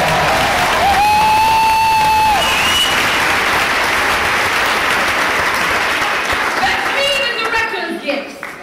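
Applause from an audience at a cast party for Aladdin, a loud sustained wash of clapping with a voice heard over it early on, tapering off near the end.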